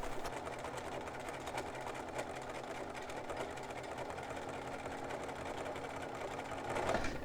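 Sewing machine running steadily while stitching a micro roll hem in contrasting thread, a continuous whirring motor hum at close range with no pauses and no talk.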